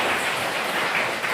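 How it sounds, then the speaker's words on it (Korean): Congregation applauding during a Parents' Sunday service at a Korean Presbyterian church in Madrid, a brief burst of steady, dense clapping filling the hall with no talk. "다시 한번 큰 박수를 부탁드리겠습니다"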